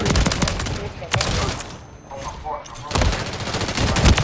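Shotgun blasts in Call of Duty ring out as loud sharp reports, a couple of distinct bursts over about four seconds mixed with dense gameplay noise and brief talk.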